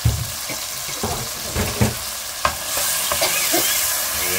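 Canned sardines sizzle and fry in a pan while a utensil stirs them, with repeated scraping strokes over a steady loud hiss, close up and without talk.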